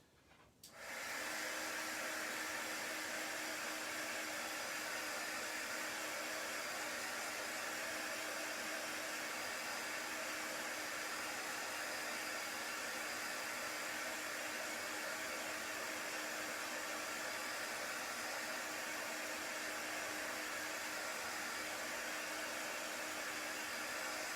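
A hair dryer blows steadily on chalk paste spread over a stencil for a floral script sign, starting after a brief moment and running as a loud, continuous whoosh that stays level with no talking.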